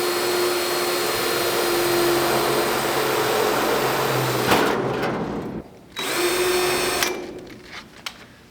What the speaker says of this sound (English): Right now, I'm cutting out these sections of the hood so we can put a hood scoop on.